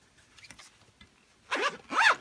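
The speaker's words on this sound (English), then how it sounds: "And it zips up perfectly fine" A zipper runs around a RayMay traveler's notebook cover, two quick close zips in a row after a few faint handling rustles.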